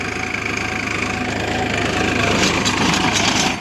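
A Sonalika tractor ploughing a field at low RPM, its diesel engine chugging steadily and loudly up close with a rhythmic rumble and rattly vibration throughout.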